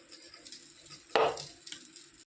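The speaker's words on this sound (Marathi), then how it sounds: "आता साबुदाणा सोडते त्याच्यामध्ये." Sago pearls are tipped into a pan of fried peanuts while making khichdi, giving one sudden bright sizzle and stir after a quiet stretch of soft frying.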